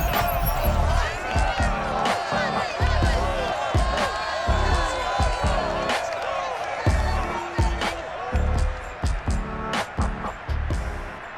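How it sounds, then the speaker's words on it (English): Roaring stadium crowd at Lumen Field in Seattle in Madden NFL 22 for a Ravens versus Seahawks football game, a dense continuous wall of cheering and noise with a commentator talking over it. "This crowd, as we've come to expect in recent years, as loud as any in the NFL"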